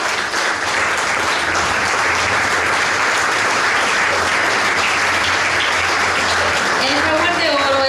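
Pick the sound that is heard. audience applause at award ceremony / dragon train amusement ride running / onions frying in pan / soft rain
audience applause at award ceremony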